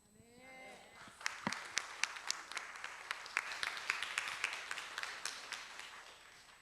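A church congregation claps in sparse, distinct, slightly uneven hand claps that build into a scattered rhythm, heard at moderate distance after a voice speaks briefly at the start.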